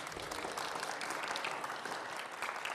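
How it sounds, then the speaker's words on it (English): A church congregation applauds, giving a soft, even wash of many hands clapping at a steady level throughout. "let's have a round of applause and gratitude for the work of the nominating committee once again"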